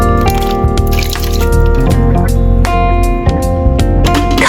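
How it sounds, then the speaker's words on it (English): Soup ingredients (cubed tomatoes, corn cut into sections, black fungus and red dates) are poured into a cooking pot, giving loud wet splashes and drips. Music plays over the pouring. "Pour all ingredients into pot."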